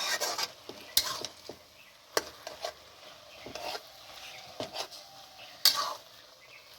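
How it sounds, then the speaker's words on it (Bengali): Bathua greens frying in a pan while being stirred, with a soft steady sizzle broken by sharp scraping clacks of a spoon against the pan at irregular intervals, close by with no talking. "এবার নেড়ে নিই ভালোভাবে করে"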